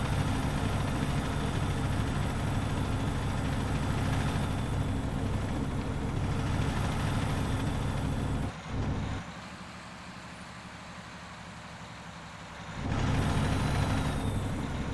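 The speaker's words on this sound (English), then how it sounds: "The engine sounds pretty loud." Simulated truck engine in American Truck Simulator, a loud steady diesel drone running throughout, briefly dropping quieter for a few seconds before rising again, with no talk.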